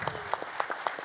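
An audience breaks into applause, a short burst of rhythmic hand claps heard at moderate distance without any voices over it.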